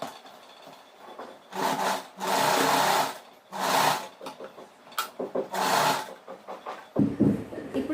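Sewing machine stitching two pieces of nightsuit fabric together in several bursts of whirring stitching separated by short pauses, with fabric being handled and rubbed in between.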